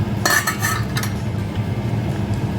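A lid comes off a cooking pot of boiled ash plantain with a few metallic clinks and scrapes, followed by a low steady hiss, with no talking.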